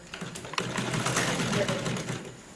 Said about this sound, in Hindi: इसको साइड पे कर दें और इसकी सिलाई लगा दें